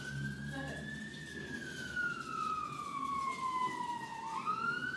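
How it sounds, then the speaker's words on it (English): A fire brigade siren outside a tenement house in Glasgow wails in one long, slowly falling tone, then rises again, heard at a moderate distance through the walls over a low rumble of traffic. "Fire brigade going by."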